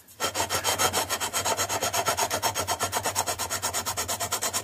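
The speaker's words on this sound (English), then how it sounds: "This is the sort of the sanding beam, if you like, and I'm just going to" A sanding beam rubs back and forth over guitar frets, making a steady rhythm of close, dry rasping strokes, about five per second, with no talk.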